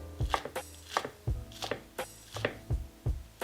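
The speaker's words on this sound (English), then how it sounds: "Just want to cut off those roots, toss them aside, and these we want just little pieces like that." A knife chops green onions into small pieces on a cutting board, about a dozen crisp, evenly spaced thuds that sound close and clear, with no talking.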